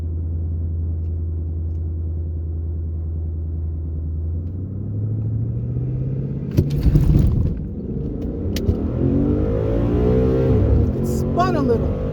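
A red 2015 Ford Mustang revs hard for a stall launch at a drag track, its engine note climbing from a steady low rumble into a loud launch roar as it pulls away, while voices talk near the car.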